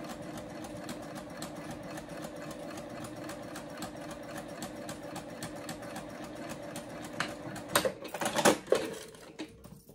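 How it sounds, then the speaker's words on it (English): A sewing machine top stitching a bag strap runs in a fast, even mechanical rattle for most of the stretch, then slows and stops with a few louder clunks near the end. "I just shorten my stitch length on my machine, and then I turn it back to my top stitch."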